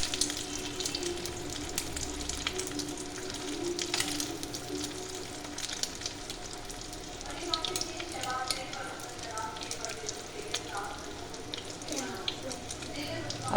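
Shami kebabs frying in oil in a pan, a steady low crackling sizzle that continues throughout with small pops, fairly faint and close, with a voice talking over part of it.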